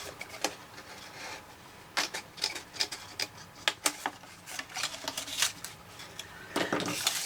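Card paper being cut while making a 5x7 card and envelope, a series of faint crisp snips and scraping clicks in an irregular rhythm, close and quiet, with no talk.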